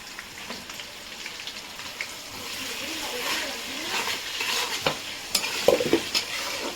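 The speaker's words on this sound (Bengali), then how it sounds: "পেঁয়াজটা বাদামি কালার করে ভেজে ফিরছি বন্ধুরা।" Onions fry to brown in hot oil with bay leaves and whole garam masala for a mutton dish, giving a soft steady sizzle broken by irregular scraping stirs of a spoon against the pan, nearby, with a voice faintly present.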